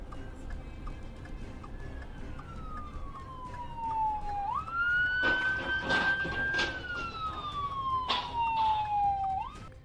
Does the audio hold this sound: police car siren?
yes